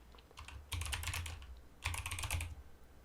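Fingers type text on a computer keyboard at close range in two quick bursts of rapid clicking keystrokes, separated by a short pause, fairly quiet.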